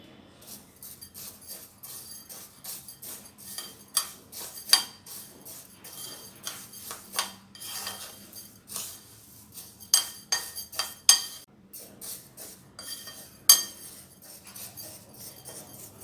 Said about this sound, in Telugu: ఇప్పుడు ఇందులో రుచికి సరిపడా సాల్ట్ వేసి బాగా కలుపుకోవాలి